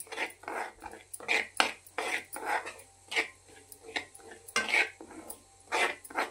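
A spoon scrapes and stirs dry semolina in a pan over low heat with no ghee, making rhythmic, close, gritty strokes separated by short pauses.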